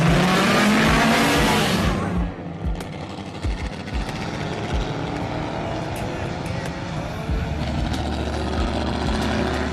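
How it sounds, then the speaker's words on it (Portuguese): Race cars at the start of the 500 km endurance race at Interlagos fire up their engines and pull away, a loud roaring burst for about two seconds settling into a steady engine drone with crowd noise. "o pessoal liga o motor e parte"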